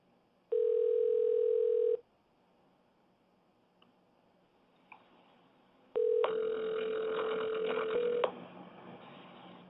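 A telephone line rings with two steady electronic ring tones, a short one early and a longer one later, separated by a quiet pause on the line, with no talking.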